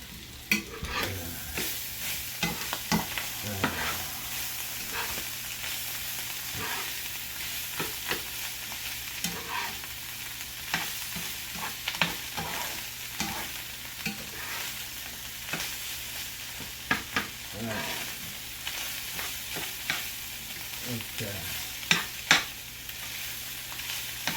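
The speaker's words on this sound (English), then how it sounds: "Hold on, let me stir this here." Spaghetti sauce sizzles in a pot while a spoon stirs it, with repeated scraping knocks over a constant frying hiss and no talk.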